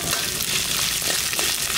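Garlic and small shallots sizzle steadily in a hot pan, a dense, even frying hiss that stays close and continuous with no talking.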